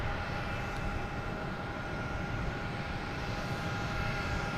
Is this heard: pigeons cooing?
no